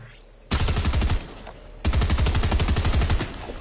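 Combat SMG firing in Fortnite, two rapid automatic bursts separated by a short pause, loud and close, each a fast stream of sharp cracks.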